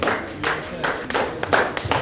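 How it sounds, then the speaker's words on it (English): Audience applause breaking out at a religious freedom conference as a group's chair and secretary walk forward, a sustained patter of clapping from a seated crowd, fairly close and steady for a couple of seconds with no talk over it. "A round of applause for them as they come forward"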